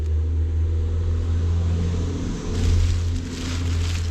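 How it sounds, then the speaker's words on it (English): A garbage truck rumbles past with a loud, steady low engine drone close by, swelling briefly as it passes and then holding on, with no voices. "Garbage truck just went by."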